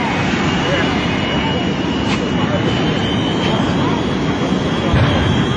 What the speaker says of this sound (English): He's going to line up the afterburners on all three of those jet engines